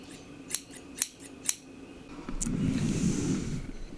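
Three crisp scissor snips come at an even pace, followed by a softer rustling swish of a longer cut, close and quiet.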